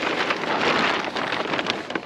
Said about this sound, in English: Constantly raining, guys.